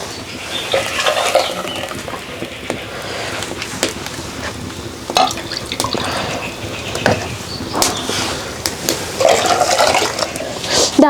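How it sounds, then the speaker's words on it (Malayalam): Ground turmeric, mustard and shallot paste poured from a grinder into a pan: wet sloshing and gurgling pours in several bursts with scraping between them, close and fairly loud, with a faint voice in the background. "അപ്പോൾ നമുക്ക് അരപ്പ് ഇതിലോട്ട് ഒഴിക്കാവേ."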